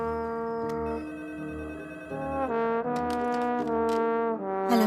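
A telephone rings in a Hindi-dubbed South Indian film scene, a steady repeating electronic ringtone melody heard fairly clearly with no talk over it.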